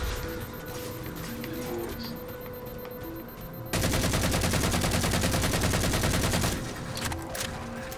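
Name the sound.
assault rifle gunfire in video game Halo 4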